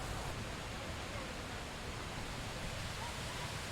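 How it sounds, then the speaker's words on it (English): Waterfall in the Maryland mountains: steady, broadband rushing water roars evenly throughout, moderately distant and constant, with no distinct voices over the continuous wash. "Waterfall."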